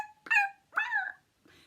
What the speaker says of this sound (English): Puppies like to yelp.